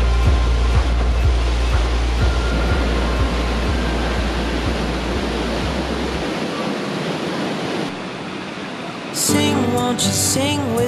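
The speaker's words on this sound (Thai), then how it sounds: "น้ำตกเล็กทาเควีน้ำตกที่มีความสูง22เมตร" A small 22-metre waterfall in Tbilisi, Georgia, sends up a loud, continuous rushing roar of falling water close by, with a low rumble underneath, and a brief burst of other sound near the end.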